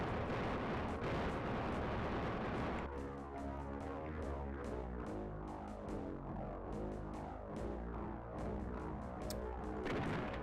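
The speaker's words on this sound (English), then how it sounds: "Just gonna randomly start firing into all directions." Gunfire in DOOM on the Super Nintendo rings out as a dense, crunchy volley of low-fidelity blasts and booms, fired repeatedly in quick succession with a few sharper cracks scattered throughout.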